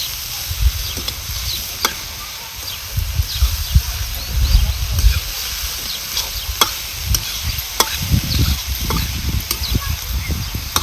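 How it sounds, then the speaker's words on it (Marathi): Chopped fenugreek leaves sautéed in a pan, irregular low scraping and stirring thumps over a faint continuous sizzle, with occasional sharp clicks of a utensil striking the pan across about eleven seconds. "चांगली परतून घ्यायची"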